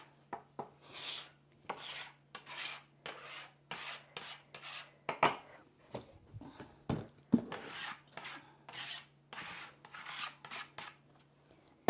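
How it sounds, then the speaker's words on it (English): Excess flour is scraped off a work surface while making poori, a rapid series of dry rasping scrapes in uneven bursts, close and fairly quiet, with a faint steady hum underneath. "Scrape off the excess flour."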